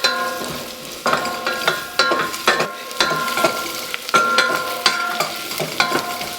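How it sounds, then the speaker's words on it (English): Ginger and carrots stirred in a pan for tomato soup, with a spoon scraping and clinking in a steady rhythm over a constant sizzle. "Then I'm adding carrots. And just going to give a stir for some time."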